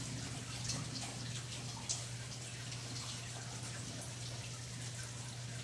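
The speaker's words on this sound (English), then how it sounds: "It was definitely not raining this heavy earlier." Heavy rain pouring steadily during a thunderstorm, a dense, even hiss of falling water and splashing on wet ground throughout, with a constant low hum underneath and no voices.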